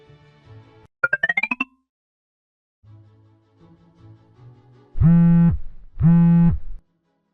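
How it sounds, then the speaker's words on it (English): An unanswered mobile phone ringtone: a quick rising melodic burst, then two loud, sustained buzzing rings in a row, with softer tones in between and no one speaking. "Why are you not picking up the phone?"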